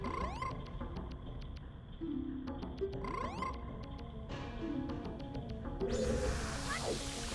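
Croaking frog sounds from the Zelda game Majora's Mask, tied to a Snowhead frog-collecting quest, come in repeated bursts over busy game music and effects, moderately loud with no voices.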